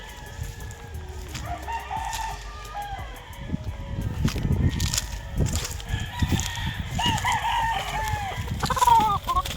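A pure white Kelso gamecock at a game farm crows and clucks close by, with repeated calls and bursts of clucking, and other fowl calling around it.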